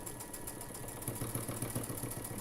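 A sewing machine stitching through a thick eight-layer fabric quilt seam, a fast even mechanical thrum that picks up a steadier pulsing rhythm partway through, close and constant with no voices.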